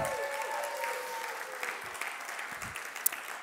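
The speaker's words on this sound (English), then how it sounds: "Let's give everybody a round of applause." Loud, sustained audience applause fills a show finale, a dense wash of clapping with no voices over it and a single sharper clap standing out near the end.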